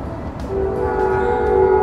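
A train rolls through the middle of a town in Tucson, Arizona, heard from a hotel patio, its sustained horn blaring over a steady rumble that grows louder as it approaches.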